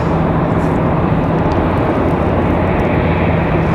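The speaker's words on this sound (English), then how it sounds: "Private owner coming in from Cancun, Mexico. Bombardier Challenger 300. There it is." A Bombardier Challenger 300 private jet coming in to land at Raleigh-Durham airport makes a loud, continuous jet roar with a low hum, close and steady throughout, heard with no speech.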